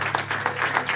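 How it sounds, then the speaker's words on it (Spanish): Church congregation applauding a visiting prophet from Puerto Rico during a Spanish-language service, a brief, even wash of many hands clapping together at moderate loudness. "Un fuerte aplauso para esta mano Cristian Valentín"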